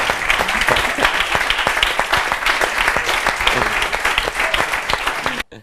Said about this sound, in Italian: complimenti, un applauso grande, Beppe Bifido.